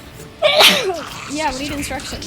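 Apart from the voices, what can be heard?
sneeze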